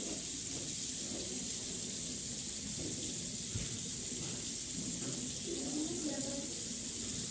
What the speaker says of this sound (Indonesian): Kemudian bilas tangan dan pastikan sudah terbilas dengan bersih.